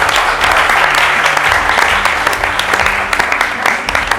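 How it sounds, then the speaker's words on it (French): Sustained applause from an audience at the final of a school competition between high schools in Grand-Bassam, Côte d'Ivoire, a dense, steady clapping that fills the whole stretch at a fairly loud, even level. "Donc on peut vraiment les applaudir."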